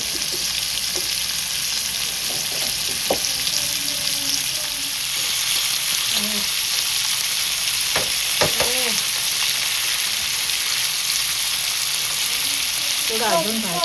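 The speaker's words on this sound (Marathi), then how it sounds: "थोडं अजून भाजायचं. मासे भाजले, काढून घेऊया." Fish frying directly in hot oil for a Kerala-style fish fry in a Konkan kitchen: a constant close sizzle of frying oil, broken by occasional clinks and stirring knocks, with no talking.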